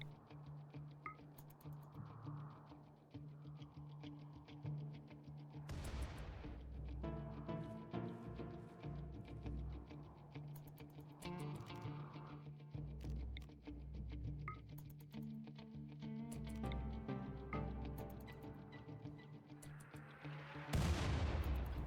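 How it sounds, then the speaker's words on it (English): Mortar shells fired in RimWorld, heard as several separate booming thuds spaced across the stretch amid busy game music and effects, with a louder blast near the end. "Jake is going to give the mortar another shot."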